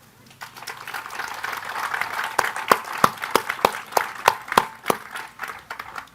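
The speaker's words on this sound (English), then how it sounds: "I would like an applause for her." Applause from a panel discussion audience swells up and continues with scattered sharp claps standing out, moderately loud in a room.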